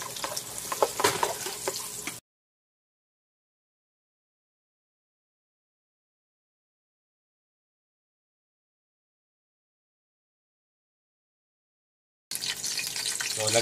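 Onions sautéing in a generous amount of oil for banana-blossom sisig give a close, steady sizzle that cuts out into a long silence and then returns, louder, near the end.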